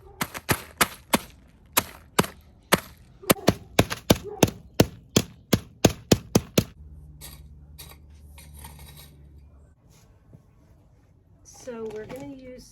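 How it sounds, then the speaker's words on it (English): Dried eggshells in a bag are pounded about twenty times in quick, sharp, close knocks, followed by softer crunching and rustling as a voice speaks over the end. "you are going to smash them to smithereens"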